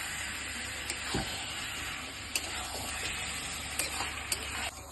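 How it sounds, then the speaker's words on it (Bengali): Chicken and potatoes fry in spice paste for Bihari-style chicken kosha, a soft steady sizzle with occasional scraping stir clicks and light knocks. "এখন আমি চিকেনটা আর আলুটা দিয়ে দিব ভালো করে কষিয়ে নিব"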